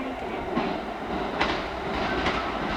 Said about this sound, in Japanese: まもなく2番線の電車が通過いたします。